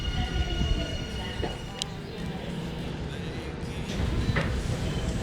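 Interior rumble of a subway train in Japan, a steady low roar with rattling carriage noise and a brief high squeal, heard from inside or beside the train with faint background voices.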